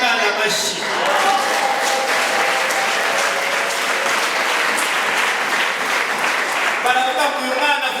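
Applause for a child erupts from a church congregation, loud sustained clapping from a large crowd that fills the space, with voices mixed into the clapping.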